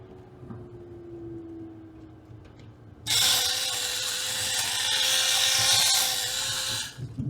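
A loud, high-pitched chainsaw motor suddenly roars to life partway through and runs steadily for several seconds, whining with slight changes in pitch, before cutting off.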